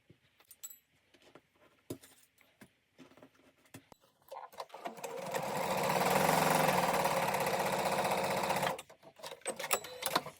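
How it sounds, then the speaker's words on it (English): A sewing machine whirs steadily for several seconds, rising from scattered clicks and handling noises, then stopping abruptly into more light clatter. "we can take this over to our sewing machine and stitch down both of those sides"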